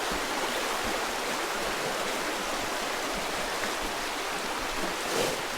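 River water flowing steadily near a railway viaduct, where the river has washed out a retaining wall; a broad, continuous rushing wash stays even and close throughout, with no voices.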